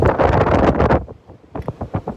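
Wind gusts strongly across a beach boardwalk and buffets the microphone, with a loud roaring burst at first, a brief lull, then several shorter gusts.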